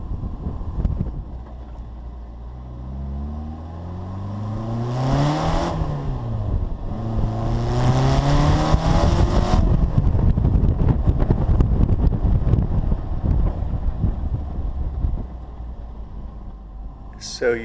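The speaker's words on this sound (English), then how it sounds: "This is an early 58 car and it screams. It's got a 1275 and a supercharger" A supercharged 1275 engine in an early 1958 Bugeye Sprite revs hard while driving, its pitch sweeping up through the gears and dropping with each shift, then holding a loud, steady drone under heavy wind buffeting.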